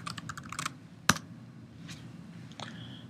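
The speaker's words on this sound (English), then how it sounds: "So I can start typing it, add new contact" Keystrokes on a computer keyboard: a burst of rapid clicks, then a single sharp louder tap and a few scattered lighter clicks, close and fairly quiet over a low steady hum.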